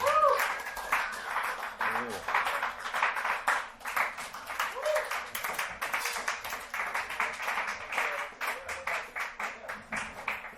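Audience applause for comedian Paul at a dive bar comedy show, a steady wash of clapping lasting several seconds with scattered voices and cheers mixed in.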